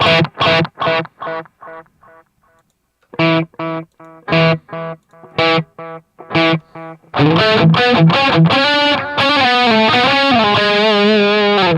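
Distorted electric guitar chords through a Line 6 Helix with a 5150 amp patch, struck in short bursts with gaps, then sustained ringing notes smeared by echoing delay repeats, loud and up close.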